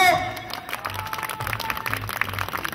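A crowd at a jaripeo, a Mexican bull-riding event, claps in scattered applause that rises and falls, with an announcer's voice carrying over it through an outdoor sound system.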